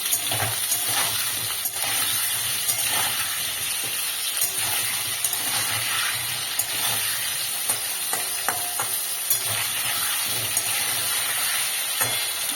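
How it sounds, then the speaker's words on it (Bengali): Potatoes frying in hot oil give a dense, continuous sizzle throughout, with occasional stirring scrapes, close up and without talk. "আলুগুলো খুব ভালো করে ভাজতে হবে, যাতে ভাজতে ভাজতে অর্ধেক সেদ্ধ হয়ে যায়।"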